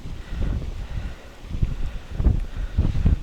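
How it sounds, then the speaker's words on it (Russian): Gusty wind buffets the microphone outdoors at a fishing spot, low rumbling bursts rising and falling in uneven waves with no voices. "Дует ветер."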